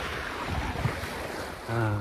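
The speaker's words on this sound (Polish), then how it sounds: "Wiaterek wieje." Wind and small waves around a sailboat under sail in light breeze of roughly 10–12 knots, a steady broadband rush of wind on the microphone with water washing, swelling louder near the end.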